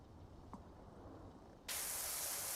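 Pressure washer water spray in the video game PowerWash Simulator 2 starts abruptly partway through as a loud, steady, broadband hiss that holds to the end, after a quieter stretch of low room sound.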